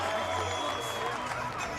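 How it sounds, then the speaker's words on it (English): Bodybuilding competition crowd at Mr. Olympia 2015 cheering and clapping for a competitor on stage, a continuous loud roar with voices mixed in. "Listen to the crowd. They love this guy."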